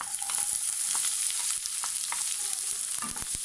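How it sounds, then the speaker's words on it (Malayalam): Chopped onions for a broccoli egg thoran sauté in a pan with a constant close hiss of frying, punctuated by light ticks and scrapes of stirring. "ഈ ഉള്ളി ചെറുതായിട്ടൊന്ന് വഴറ്റണം."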